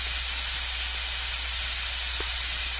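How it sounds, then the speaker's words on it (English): Water spray from a dental tool rinsing teeth in a surgery squad game with braces and whitening, a steady bright hiss held evenly throughout, close and uninterrupted. "Can you spray them with water?"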